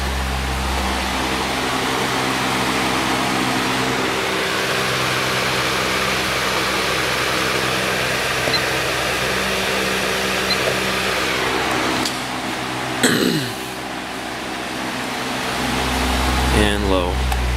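A Patton 18-inch electric fan runs on medium speed, putting out a steady whirring hum with a faint tonal drone while someone talks over it.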